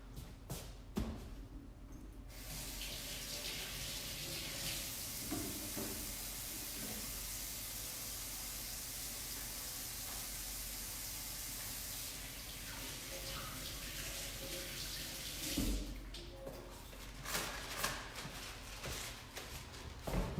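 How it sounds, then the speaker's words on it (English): Hands are washed under a running kitchen tap during a veggie fried rice cooking session, with a steady close hiss of flowing water that holds for most of the stretch, then stops amid small clatters and splashes. "So we're gonna just go wash our hands again, okay?"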